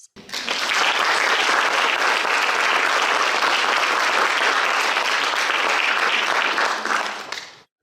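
A university literary reading audience gives a loud, sustained round of applause, a dense wash of clapping that rises quickly, holds evenly for several seconds and then tapers off, with no voices over it.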